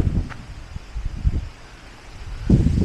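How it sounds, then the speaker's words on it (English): Wind buffets a camera with no external microphone on a farm field during ploughing, a low rumbling roar that swells in gusts and surges again near the end, with no voices. "It's a windy day."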